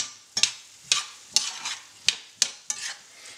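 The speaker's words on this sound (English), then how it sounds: "So stir the blueberries around." Blueberries stirred into risotto in a pan, with sharp scraping strokes of a spoon against the pan arriving at irregular intervals of roughly half a second over a soft simmering sizzle, close and clear.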